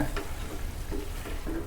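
Light scraping and soft sizzling as a spoon gently turns cauliflower fry with coriander leaves in a hot pan, with a few gentle stirring strokes.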